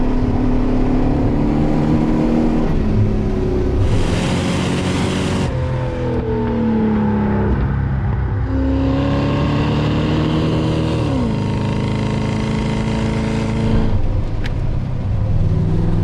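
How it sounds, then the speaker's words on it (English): A loud, close old Porsche 928 engine drones and revs, its deep pitch climbing and dropping as it pulls through second gear, with no talking. "one of the nicest things about an old 928 is the way they sound"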